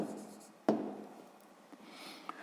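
A pen scratches quietly across paper while working a sixth-grade math exercise, with a sharp tap near the start and faint, steady strokes after it; no one speaks.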